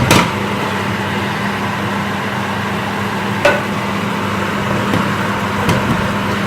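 A handheld electric mixer hums in a constant, even drone while blending spicy chicken pasta in a handi, with a couple of faint knocks against the pot.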